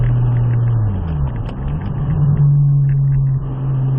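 Nissan Skyline R34 GTR engine pulling hard on a track, a steady loud drone rising and falling in pitch as it accelerates, eases off and builds again, close and continuous with no talking.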